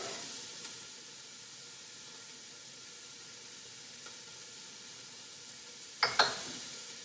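Onion, carrot and garlic sizzle quietly in a pan for a fall vegetable stew, a soft even hiss running throughout, broken near the end by two sharp knocks of a utensil against the pan.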